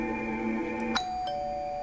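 A doorbell chimes in the graveyard-themed horror puzzle game Bad Dream: Graveyard, a clean two-tone ding-dong with ringing sustained notes over a quiet, eerie background drone.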